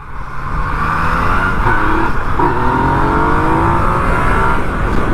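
A 2020 Yamaha MT-09 motorcycle revs hard as it lifts into a wheelie, its engine note loud and close with rising harmonic sweeps and steady roaring throughout.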